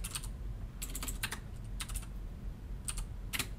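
Quiet typing on a computer keyboard at a desk, with soft clusters of quick key clicks separated by short pauses, close and alone without talk.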